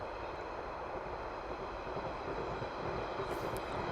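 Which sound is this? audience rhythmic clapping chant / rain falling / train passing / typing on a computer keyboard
train passing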